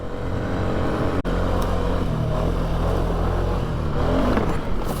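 A 2003 Polaris Sportsman 700 carbureted quad engine runs at high revs and pulls harder near the end, loud and continuous with a steady roar, and no talk.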